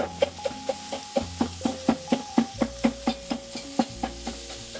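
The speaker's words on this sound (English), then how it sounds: "you break it up with a whisk" A whisk breaks up pork or beef mince cooking in a little oil in a pan, producing quick, evenly spaced scraping taps about four per second over a low, steady background.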